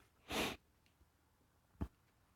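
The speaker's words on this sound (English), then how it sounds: "Sorry about the sniffling" Sniffles from a runny nose: one long wet inhaled sniff followed by a shorter sharp sniff, close and quiet with near silence around them.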